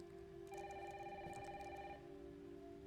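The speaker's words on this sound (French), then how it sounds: "Maman, téléphone." A telephone rings once in a warbling electronic burst lasting over a second, heard over a soft steady background hiss, in the video game Resident Evil Requiem, with rain outside.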